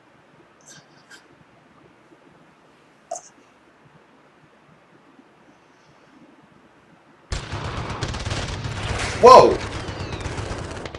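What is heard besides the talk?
gunshots in a video game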